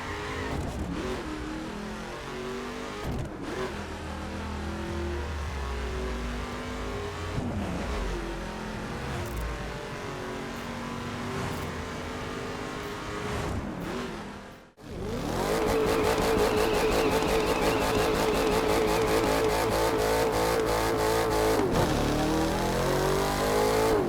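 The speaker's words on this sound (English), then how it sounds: "Sound quality has been improved quite a bit, with improved reverb effects and more realistic engine sounds." A car engine in the racing video game The Crew 2 drones steadily and revs loudly throughout, with a brief dip near the middle before a higher, stronger engine note takes over.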